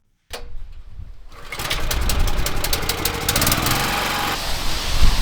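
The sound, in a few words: petrol pressure washer engine stalling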